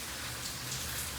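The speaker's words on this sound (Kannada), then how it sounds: "ಮಳೆ ಬಸ್ ಹೊಡೆದಂದ್ರೆ ಹಿಂಗಾಗತ್ತೆ" Rain drums steadily on a bus, a dense, even hiss of drops with no voices, heard from inside throughout.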